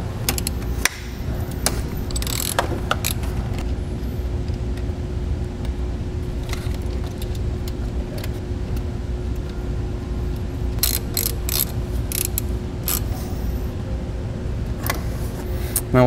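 A ratchet wrench loosens a 12 mm nut on a vehicle battery terminal while a tow-package wiring harness is installed, giving scattered bursts of sharp mechanical clicks over a steady low background rumble, with no talking.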